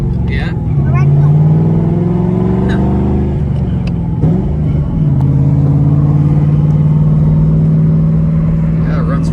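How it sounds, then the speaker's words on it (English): A 2003 Ford Mustang Mach 1 with an automatic transmission drones steadily from inside the car on a ride-along, a loud low engine hum that shifts pitch as it accelerates, with people talking over it. "So this has an automatic Mach 1 engine in it"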